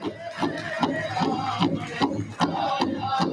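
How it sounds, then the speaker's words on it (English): An audience at the White Earth Nation State of the Nation event claps and cheers in a round of applause, a busy, rhythmic wash of hands and voices with shouts rising over it, fairly loud and close. "How about a round of applause? Warm it up."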